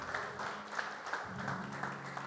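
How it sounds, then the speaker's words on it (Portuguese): A church congregation applauds during a service, a dense, steady wash of clapping with faint low voices or music underneath, at moderate distance. "Aplauda Ele mais forte."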